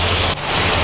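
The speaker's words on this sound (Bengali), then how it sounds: "আর এইদিকে দেখো কেমন বৃষ্টি হচ্ছে, প্রচন্ড বৃষ্টি হচ্ছে।" Heavy rain pours down in a loud, dense, unbroken hiss close by, with one brief dip partway through the short stretch and no voices.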